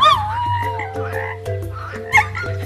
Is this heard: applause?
no